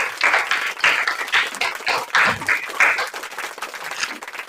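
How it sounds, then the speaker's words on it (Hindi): Students at a composite school in Moghpur Khatauli clap loudly for a classmate during a general-knowledge quiz, a dense burst of applause that swells in uneven waves and then thins out toward the end. "एक बार जोरदार तालियां।"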